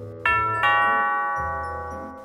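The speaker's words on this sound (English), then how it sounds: "At least they're polite enough to ring the doorbell." A doorbell sounds two bright chime tones in quick succession, the second ringing out and slowly decaying in a quiet room.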